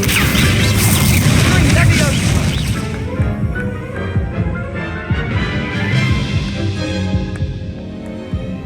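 A Confringo blasting spell in Hogwarts Legacy, heard as a loud, booming explosion with a crash that rumbles and fades into lower thuds and throbbing game noise.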